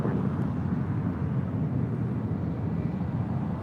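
A United Airlines Boeing 757-200 arrives at LAX as a constant, broad jet roar with a deep rumbling body, heard steadily at a moderate distance with no breaks.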